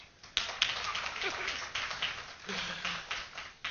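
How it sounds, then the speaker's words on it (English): Audience members at a groundbreaking ceremony for an apartment project give sparse, uneven applause, with a few distinct louder claps and some voices murmuring nearby. "It's okay to clap."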